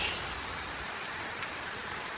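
Rain falls outdoors at a village home in a steady, even patter, a soft continuous hiss of drops with no voices.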